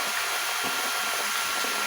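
A blower-fed burner runs with a steady, loud broadband roar and hiss that stays even and unbroken throughout, with no talking.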